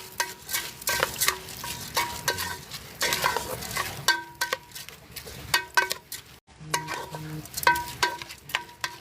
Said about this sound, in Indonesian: Kemudian kita aduk-aduk.